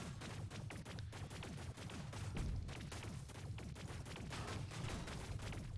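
Rapid, continuous barrage of explosions and gunfire at a shooting range in Space Engineers 2, a dense rattling stream of sharp bursts over a low rumble, faint overall.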